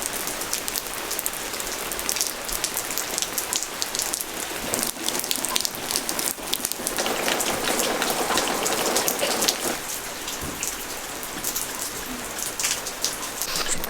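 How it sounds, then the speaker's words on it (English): Steady rain falls outdoors at an off-grid farmhouse building site, a dense, continuous hiss of drops on surfaces that holds loud and even throughout, with no talk. "it's very rainy today"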